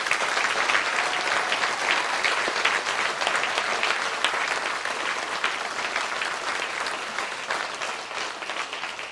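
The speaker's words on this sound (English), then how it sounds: "let's give one more big round of applause to all of our inductees this evening." A large audience at a 2021 Triton Hall of Fame evening gives the inductees a long, sustained round of applause, dense and even in loudness throughout with no voices standing out.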